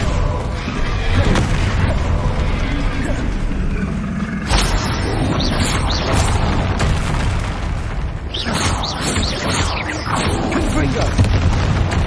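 Bombarda explosion spells cast in Hogwarts Legacy: several sharp, loud blasts burst out over steady game noise, with a voice speaking between them.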